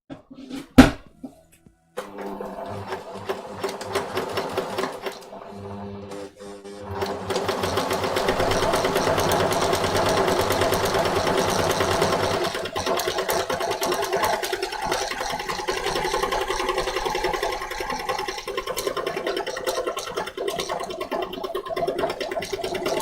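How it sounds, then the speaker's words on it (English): A sewing machine stitches side seams in a steady mechanical whir that starts and stops at first, then runs continuously at a quick, even pace, close and fairly loud. "So, I'm just stitching the side seams now."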